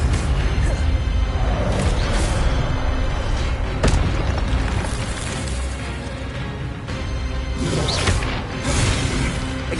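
An Incendio fire spell cast in Hogwarts Legacy, loud whooshing bursts and booming crashes repeating over a dense, continuous roar of combat effects.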